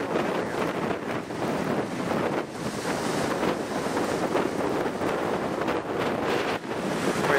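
Wind blowing across the shore at North Queensferry on the Firth of Forth: loud, gusty buffeting against the microphone with surging and easing rushes over a steady broadband roar, no talk.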